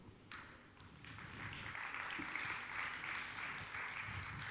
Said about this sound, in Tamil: எங்கள் பிள்ளைங்க எப்படி பாடினாங்க கொஞ்சம் கைத்தட்டி சொல்ல முடியுமா?